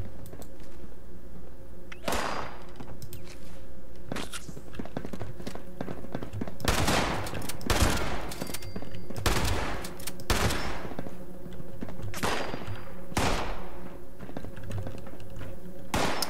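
Gunfire in Fallout 76, several loud separate shots and short bursts spread across the stretch over a steady background hum, close and punchy.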